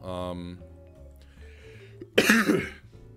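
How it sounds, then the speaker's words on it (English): A single sharp cough near the end, loud and close, following a stretch of quieter tonal background sounds. "I hate my cough sometimes. I have a really, like, disorienting cough."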